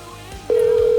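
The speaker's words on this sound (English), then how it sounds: "It's ringing, man. It's ringing." A studio telephone system line sounds a steady, loud single electronic tone that begins abruptly halfway through and holds unbroken, after faint background noise.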